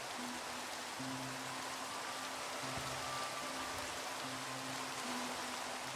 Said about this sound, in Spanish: Permítanme, quitaré la lluvia.